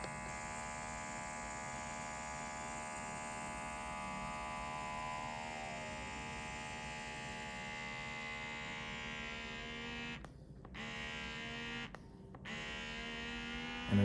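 An Achedaway electric cupping massager hums steadily and continuously on a client's skin, with a low motor drone and high whine, broken by two brief dips near the end.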